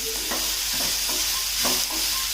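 Spices, Kashmiri chillies and cashews sautéed in a pan for veg Kolhapuri, a loud close sizzle with repeated rhythmic spatula scrapes and stirs throughout.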